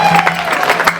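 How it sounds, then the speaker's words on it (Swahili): An audience applauds at a seminary band event in Kibaha: brisk, crowded clapping with a faint ringing tone underneath, steady and fairly loud throughout the short moment. "Makofi tafadhali."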